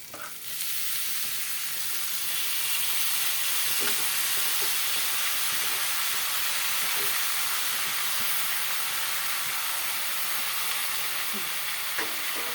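Roasted papaya frying with potatoes, peanuts and spices in a pan, a continuous dense sizzle and hiss with occasional faint clinks of stirring, close and steady throughout.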